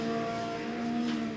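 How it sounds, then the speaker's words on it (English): Formula Student race car engine at a skidpad event, droning steadily with a strong tonal buzz that rises and falls slightly as the throttle shifts, heard from a moderate distance with no talk. "You could hear the revs going up and down a couple times."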